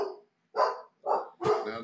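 A dog barks three times in quick succession, loud and close, each bark a sharp burst with short pauses between, the last one slightly longer and rougher.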